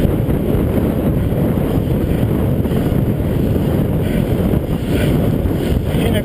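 A cross headwind buffets a rider on a bicycle, giving a loud, constant rush of wind roar over the microphone with no pauses.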